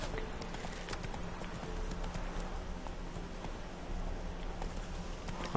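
Horse hooves clip-clop steadily in The Witcher 3 video game, a constant moderate patter of hoof falls mixed with a rain-like hiss, with no voices over it.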